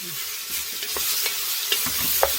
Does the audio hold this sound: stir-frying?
yes